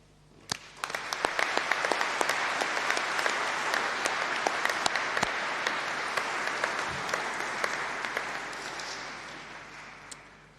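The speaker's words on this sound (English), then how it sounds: "our clapping is warming up" Dense applause from a large audience fills a hall at a university winter graduation ceremony. It swells quickly into steady, sustained clapping with sharp individual claps standing out, then slowly tapers toward the end.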